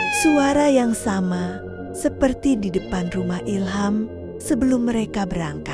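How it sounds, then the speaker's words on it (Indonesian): Several clear, drawn-out cat meows, some near and fairly loud, heard outside a window, interleaved with a voice speaking over and between them. "Dari luar jendela terdengar suara kucing mengeong pelan."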